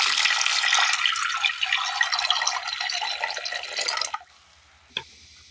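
Water poured into a pan holding soaked chickpeas and two green chillies, a bright splashing stream lasting about four seconds before stopping abruptly, followed by a single faint clink.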